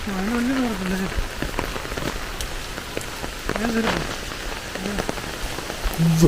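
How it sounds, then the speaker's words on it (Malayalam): Heavy rain falls in a steady, dense patter of drops on surfaces, constant and fairly close, while a few short tonal calls or voices break through now and then. "മഴ മഴ മഴ മഴ"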